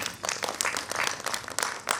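Audience clapping to welcome an author at a Punjabi book release event, a steady burst of many hands applauding together for about two seconds, fairly close and continuous with no voices.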